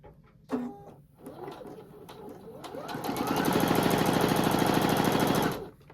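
A sewing machine stitches quilt fabric pieces with a scant quarter-inch seam, starting with a few soft clicks and handling sounds, then running steadily and rapidly for about three seconds before stopping.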